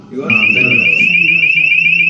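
A mining machine's audio-visual safety alarm sounds before start-up, a loud steady electronic tone that cuts in after a brief low rumble and holds continuously, close by, with a voice speaking over the opening.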